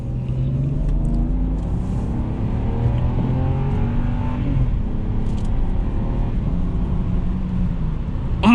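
A 2008 BMW 328xi Sport Package accelerates at quarter throttle, a steady mid-volume engine drone rising gradually in pitch inside the cabin, with no talking.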